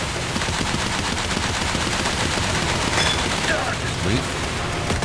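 Rapid aircraft machine-gun bursts from a plane in the War Thunder combat game, a dense continuous rattle of gunfire at steady loudness, with a voice talking over it.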